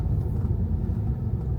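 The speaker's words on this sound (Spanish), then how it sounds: "arrancándose el coche" A Tesla Model 3 pulling away from a green light on a summer street, heard as a low continuous rumble of road and cabin noise, close and steady, without speech.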